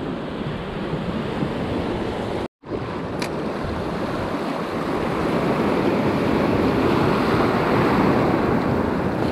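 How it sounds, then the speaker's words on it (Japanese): High ocean waves roll over an Okinawa reef in a steady, loud wash of surf with wind rumbling across the microphone, broken by one brief moment of silence. "ちょっと今日波が高いんだよね。"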